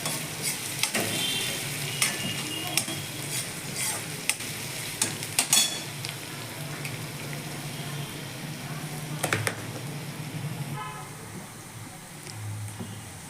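Chopped green chillies and cumin seeds sauté in hot oil in a pan, with a continuous crackling sizzle and scattered spatters and stirring scrapes throughout.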